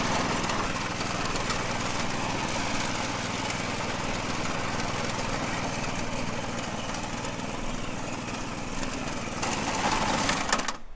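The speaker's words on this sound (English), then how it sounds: "Hey, you're mowing." A lawn mower engine drones steadily and close throughout, a constant mechanical whir with a slight surge near the end.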